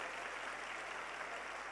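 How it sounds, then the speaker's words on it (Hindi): Crowd at a Shiv Mahapuran religious gathering applauding to welcome a Shankaracharya, a faint, distant, continuous wash of clapping with a steady low hum underneath. "तालियां बजाकर उनका अभिनंदन करें"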